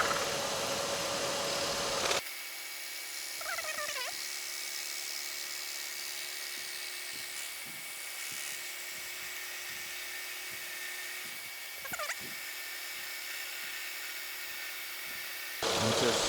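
A power saw cuts a curve in hard beech wood for a crescent pen holder, giving a steady, high, whining buzz that runs continuously after a brief start, with small shifts in pitch as the feed eases around the corner.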